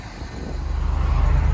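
A Range Rover Classic engine idles and builds steadily, a low, throbbing rumble that grows louder and rougher with a regular pulsing beat.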